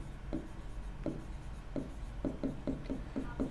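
Pen or marker writing on a board while a computer science teacher explains a database intersection query, a series of short scratchy strokes in quick succession, fairly close and alone with no talk.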